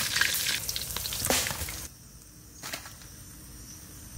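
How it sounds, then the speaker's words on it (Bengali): Fresh river rithe fish fry in hot oil in a village kitchen with a loud, crackling sizzle for the first two seconds. It then settles into a quieter, steady hiss with an occasional pop. "মাছ ভাজার পরে আমি ছাতুটারেও ভেজে নেব।"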